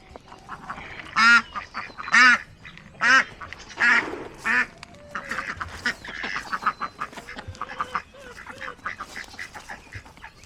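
Ducks quack loudly and close by at feeding time, a run of about five strong, evenly spaced calls followed by a busier cluster of overlapping quacks and softer chatter.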